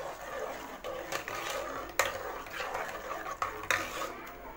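A tomato and onion mixture for instant sambar without lentils is stirred in a pot, with soft scraping and scattered light clinks of a spoon against the metal, fairly quiet.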